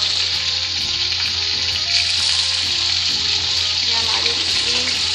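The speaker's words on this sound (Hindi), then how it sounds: "ये हमारी मछली अच्छे से फ्राई हो गई है" Fish frying in a pan, a loud steady sizzle with crackling that carries on unbroken throughout, close up.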